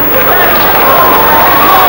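Applause and crowd noise from about 4,800 spectators in a pavilion at a 2001 Kostya Tszyu vs Oktay Urkal boxing match, a loud, continuous wash of clapping and cheering with an announcer talking over it.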